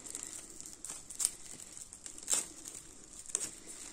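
Plastic packaging around mail-order rose plants crinkles softly up close, with a few sharper rustles standing out from a quiet, patchy background.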